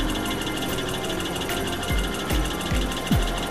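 A solar thermal electric generator's flywheel spins with a steady mechanical whir, punctuated by several sharp clicking thumps in the last couple of seconds, fairly quiet and without talk.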